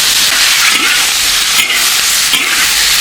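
Black-bone chicken pieces hit a hot wok and fry with a loud, dense, steady sizzle and hiss that fills the whole few seconds, with no voices over it.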